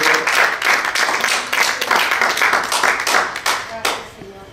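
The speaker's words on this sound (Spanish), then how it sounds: "Un aplauso fuerte, Señor." A church congregation breaks into loud, rhythmic clapping that carries on for several seconds and then tapers off, close and lively, with voices mixed in underneath.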